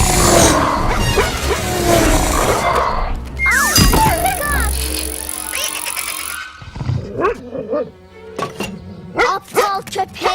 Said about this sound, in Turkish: Aptal köpek.